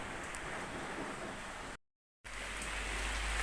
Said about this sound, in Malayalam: കനത്ത മഴയാണ് ഇവിടെ